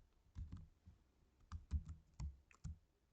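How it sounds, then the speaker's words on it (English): Keys on a computer keyboard being typed while entering Java code, a handful of soft, sparse clicks in short bursts with pauses between, quiet and close. "Then I'll type here system.out.println"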